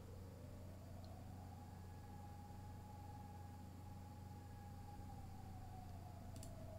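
Distant emergency siren wailing outside, a faint rising-and-falling tone held steadily across the clip over a constant low hum, with no talk.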